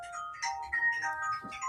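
A phone rings indoors during a conversation, its electronic tone sounding steadily through the whole moment at moderate volume, with soft clinking and faint voices in the background.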